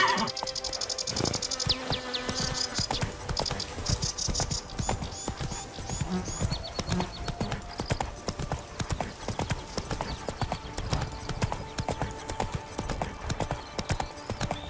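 Horse galloping in The Witcher 3, a rapid, continuous clip-clop of hooves for the whole stretch, loud and close, with buzzing insect ambience and faint game sounds around it.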